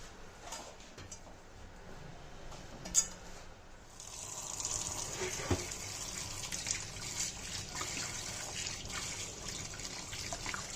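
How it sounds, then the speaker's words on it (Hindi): Fire-roasted brinjal for dhaba-style baingan bharta is dropped into a bowl of water, giving a soft clink and splash near 3 seconds, then a steady close trickling, sloshing water sound with faint kitchen clatter and no talking. "अब इसे अलग बर्तन में निकाल लेना है और पानी में डाल देना है।"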